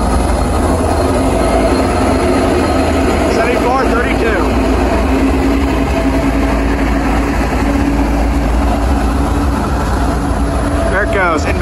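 Union Pacific freight train MHNPX passes close by, a sustained heavy rumble of wagons with wheel squeals, while a person talks over it.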